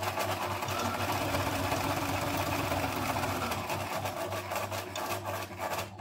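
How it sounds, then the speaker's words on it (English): A sewing machine stitches a straight line across a paper spiderweb ephemera frame for a Halloween junk journal, a steady, fairly quiet continuous whirring hum with a faint rasping texture throughout. "and then you can just sew over this"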